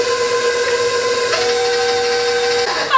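An electric mixer whirs steadily through peanut butter cake batter, a constant loud hum that shifts pitch slightly partway through, with no talking.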